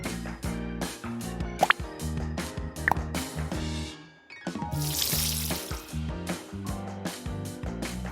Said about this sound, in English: All we need to do now is pour the water. A little, not a lot.